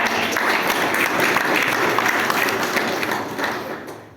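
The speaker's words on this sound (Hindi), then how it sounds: "उनके सम्मान में जोरदार तालियां चाहूंगा" An audience gives loud, sustained applause in honour of Balram Patel at an RCM business meeting, dense clapping throughout that tapers off at the end.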